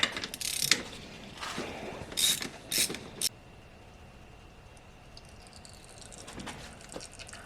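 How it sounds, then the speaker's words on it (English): Ratchet clicks from a wrench breaking loose the oil screen on a KTM 250/350 dirt bike, a few short close bursts of rapid clicking followed by quiet. "we can go ahead and break loose that oil screen and take a look at it"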